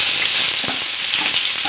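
Onions fry in a pan with a close, even sizzle, a few soft stirring knocks breaking through the hiss.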